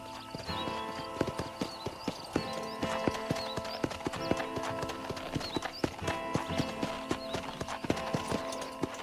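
Horse hooves in the video game Red Dead Redemption, a steady, rapid clip-clop of galloping hoofbeats over a constant background of game sound and music, with an occasional whinny.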